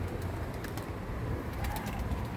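A tumbler pigeon coos softly outdoors, a few low murmuring calls under a steady background hum, faint and somewhat distant.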